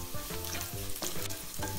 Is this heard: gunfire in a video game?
no